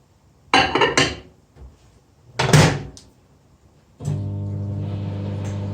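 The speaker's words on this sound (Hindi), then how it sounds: "अब इसको रख रहे हैं अवन में। चम्मच निकाल लेंगे।" A dish of zarda is set into an oven with a couple of clanking, knocking contacts, and a spoon is pulled out, followed by a steady hum as the oven runs, close and fairly loud.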